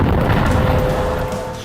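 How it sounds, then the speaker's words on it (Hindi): An anti-tank missile strikes an Israeli military post on the Lebanon border, causing a loud, rumbling explosion that starts at full force and slowly fades over nearly two seconds, with no voices. "पहले धमाका, फिर पोस्ट का बड़ा हिस्सा ढह जाता है और आग लग जाती है"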